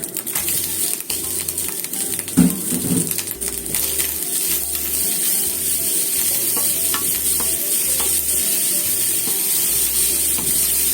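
Dried baby sardines and bean sprouts stir-fry in a pan, giving a steady close sizzle with occasional scraping and stirring clatter throughout, no talking.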